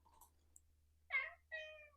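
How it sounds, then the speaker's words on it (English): A house cat meows twice in quick succession, close and clear, in an otherwise quiet room. "Cat came to say hello."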